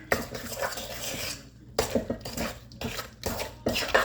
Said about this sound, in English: I'm just mixing it up by hand because I'm not beating it like I am for a cake